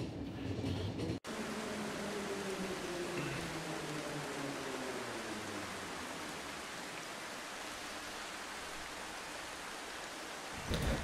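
A train rumbling along in the post-apocalyptic game The Final Station, a dense continuous roar with a low droning tone slowly falling in pitch, steady throughout after a brief cut near the start.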